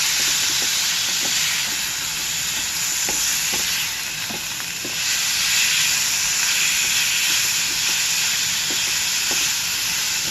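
Chicken pieces fry in a pan on a stove over medium heat, hissing and sizzling loudly and steadily, with faint stirring clicks from a utensil.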